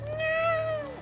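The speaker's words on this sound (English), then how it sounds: "Peacocks make a really weird noise." A single drawn-out peacock call from the video game Witcher 3, a clear wailing tone that rises and falls over about a second, loud and close, with no talking.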